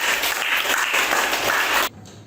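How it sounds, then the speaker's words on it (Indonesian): A classroom group claps together in a burst of dense applause that lasts nearly two seconds and then cuts off abruptly. "beri tepuk tangan untuk kelompok"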